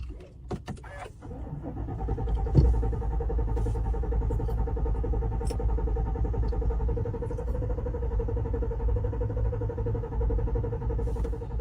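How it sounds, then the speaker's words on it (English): A new pickup truck with a rebuilt engine under recall cycling while someone tries to start it, a few clicks followed by a steady mechanical whirring hum with a sustained tone, close and even. "Trying to start it, and it's just cycling"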